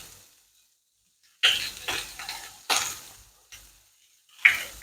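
Bacon frying in a pan alongside onion, with short bursts of sizzle and crackle that come and go, separated by quiet gaps, close and moderately loud with no talk.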